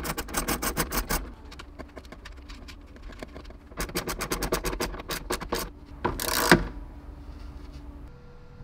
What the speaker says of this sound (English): that looks like an 8mm to pull that ground nut off